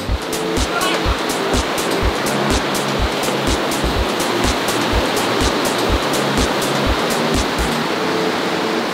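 Rushing river water in the Montana mountains roars as a broad, constant wash of noise, with regular rhythmic thumps running through it and no clear voices.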